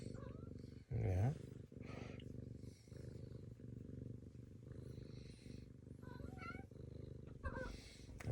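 A house cat purrs close up with a steady low rumble throughout, under an affectionate owner's soft talk, with a louder burst near the start.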